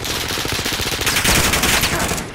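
Sustained automatic gunfire in Call of Duty: Modern Warfare, dense rapid bursts rattling continuously and loud throughout, with a heavier sharper volley near the middle.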